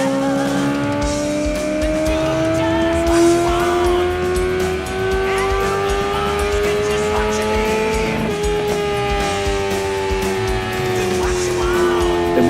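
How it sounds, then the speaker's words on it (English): A motorbike runs on a dyno under brake load, its engine droning loud and close with a steady tone that climbs slowly, eases back briefly and rises again, while a voice talks over it. "Here the bike's being released under a load on the brake on the dyno to simulate real-world"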